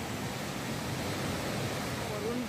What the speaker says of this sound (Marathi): वरून धबधब्याचे पाणी ना खाली असं सरळ खाली येतं